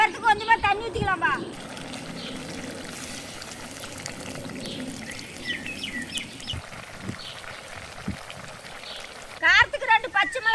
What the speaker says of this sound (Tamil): சிக்கன் வேகிறதுக்கு கொஞ்சமாக தண்ணி ஊற்றிக்கலாம்பா.